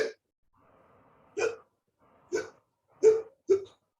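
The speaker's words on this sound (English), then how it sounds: "it's called hiccup." A person hiccups four times at uneven intervals, each a short sharp gulp, with a faint breathy hum between them. No talking.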